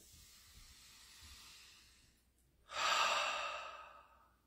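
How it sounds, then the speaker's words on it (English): A slow deep breath is drawn in softly, then let out in a louder airy exhale that swells and fades over a couple of seconds in a quiet room. "All right, deep breath."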